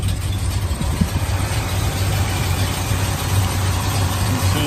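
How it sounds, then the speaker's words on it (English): A classic muscle car engine idles steadily at close range, a low, even rumble with a faint lope and no talking over it. "Let's take a listen to the engine."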